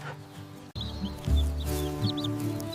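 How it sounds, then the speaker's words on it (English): A small brown farm chick gives faint, high, thin cheeps scattered over a steady low farmyard hum, a few brief chirps rather than continuous calling. "This is a small brown farm chick."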